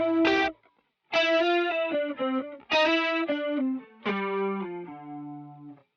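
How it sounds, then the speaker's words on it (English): An electric guitar through a detune chorus preset plays a few chords and arpeggiated phrases, each shimmering and wide with a wavering doubled quality, ringing out loudly and close with short pauses between. "And then there's this detune chorus."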